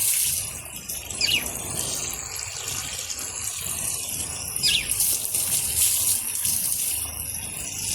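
Water poured and splashing to bathe pet birds on a hot day, a steady close gushing and trickling flow with a couple of brief chirp-like squeaks over it, no talk.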